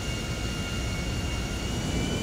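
A plane in a video game flies steadily through the whole stretch, a continuous loud jet-engine roar with no voices over it.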